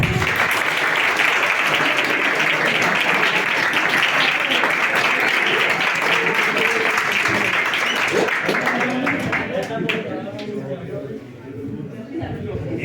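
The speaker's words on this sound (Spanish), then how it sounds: "vamos a empezar con un aplauso para vosotros" Audience applause at a book presentation, a dense, sustained burst of clapping across a room that holds strong for several seconds before gradually tapering off as a voice returns.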